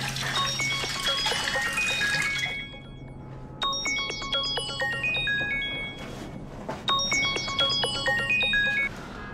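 A phone ringtone plays in two repeated melodic bursts of bright chiming tones over the faint sound of running water, close and clear, with no talking.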